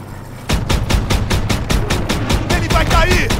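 Rapid gunfire in the World War II shooter game Call of Duty WWII: a close, loud, rhythmic string of shots in steady bursts, with shouting voices faintly behind.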